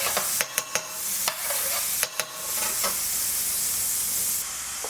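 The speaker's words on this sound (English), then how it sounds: "just sizzling nicely" Garlic, ginger and tomato puree frying in a pan with a steady close hiss, broken by several sharp clicks and scrapes of stirring.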